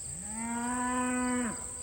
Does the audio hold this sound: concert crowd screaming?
no